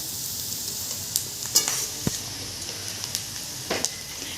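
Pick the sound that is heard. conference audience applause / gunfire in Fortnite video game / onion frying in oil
onion frying in oil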